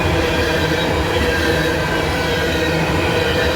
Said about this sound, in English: You can hear how noisy those rails are today